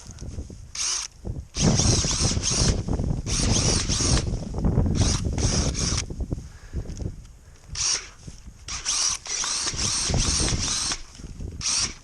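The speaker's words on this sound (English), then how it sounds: "use the drill." Power drill run in repeated short whirring bursts while a trap is set in black soil among grass at an abandoned house in central Illinois, loud and close with pauses between bursts.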